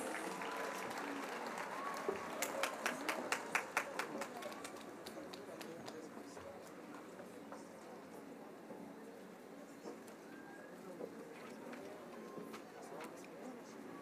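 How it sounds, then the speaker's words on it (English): Audience applause at a college commencement ceremony as an award winner comes forward, clapping strongest early then thinning to a scattered patter with background murmur and voices throughout. "Let's give them a round of applause as they come"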